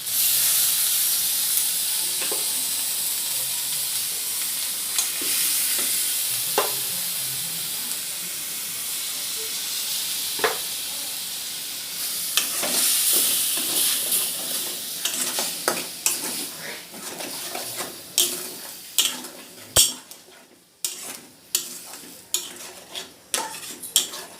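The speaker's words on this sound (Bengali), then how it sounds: "এটা আমি খানিকক্ষণ কষাবো যেন টমেটোর কাঁচা গন্ধটা বের হয়ে যায়" Blended tomatoes with green chili paste and asafoetida sizzle as they are sautéed in a pan for corn soup. A steady hiss carries through, and sharp spoon clanks and scrapes against the pan grow more frequent toward the end.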